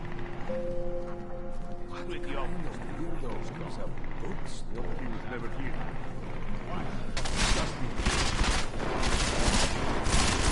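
Gunfire in the video game Deus Ex: Mankind Divided, bursts of shots cracking out amid mechanical game noise, growing denser and louder toward the end, with a voice talking over it.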